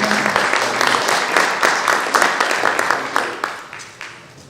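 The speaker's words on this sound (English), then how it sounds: "So one last round of applause" An audience applauds student performers at a spring arts program, loud close clapping with crisp individual hand claps that gradually tapers off, ending in a few scattered claps.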